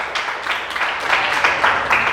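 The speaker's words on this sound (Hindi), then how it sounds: "प्रभु के लिए ताली बजा दीजिए।" A church congregation claps for the Lord during a Hindi sermon, with sustained clapping from many hands close by, swelling in waves over a couple of seconds without speech.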